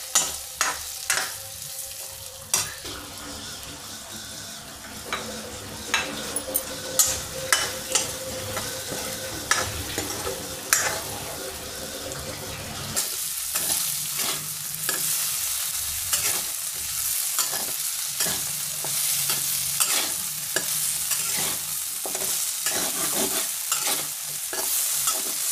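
Potatoes frying in ghee for a Navratri fasting dish, with a continuous crackling sizzle and frequent spatula stirring clicks close by. The frying grows brighter and busier partway through, and no one speaks.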